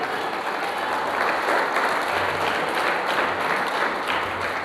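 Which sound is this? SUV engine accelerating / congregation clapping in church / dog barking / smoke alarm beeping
congregation clapping in church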